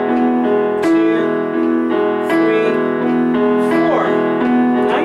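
Solo piano piece played with both hands during a lesson, the left hand joining the right: steady, loud chords and melody notes in a regular counted rhythm, sounding close and alone with no talking.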